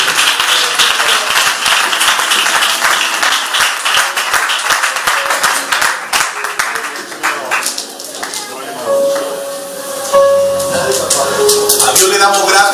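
A church congregation in San Juan, Alicante claps together during a service, a dense, sustained run of applause that thins out, with voices and scattered talk mixed in.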